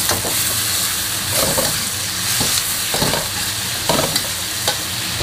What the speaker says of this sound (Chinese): 再加入生抽炒香